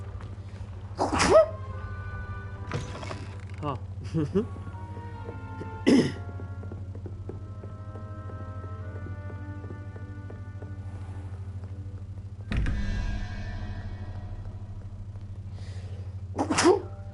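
A character sneezes several times in the Hogwarts Legacy game: sharp, loud bursts about a second apart, mixed with coughs or throat clearing over a steady low background hum, and a brief exclamation in between.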